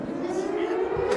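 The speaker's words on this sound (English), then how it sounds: "that's the air raid siren for the Prestige" An air raid siren blares at a wrestling event, a steady sustained wail with a held pitch that carries over the crowd noise, loud and continuous throughout.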